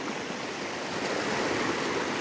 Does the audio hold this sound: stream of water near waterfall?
yes